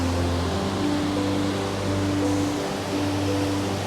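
A waterfall pours among rocks, producing a steady, even rush of water noise that holds constant throughout, with a faint low hum underneath and no voices.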